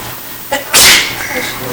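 A single sharp sneeze bursts out close by in an indoor classroom setting, preceded by a short breathy intake and followed by faint room tone.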